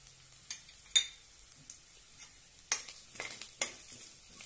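Black masala, turmeric and red chili powder sautéing in a pan for a black-eyed pea, brinjal and potato curry, with a soft sizzle and several sharp spoon scrapes as the spices are stirred.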